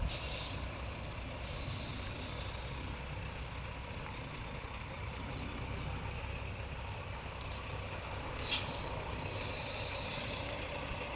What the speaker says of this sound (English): Having some issues getting the 18-wheeler into the driveway